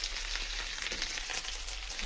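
Fish fillets frying over low heat in a covered frying pan, giving a steady, even sizzle with faint crackles throughout and no voices.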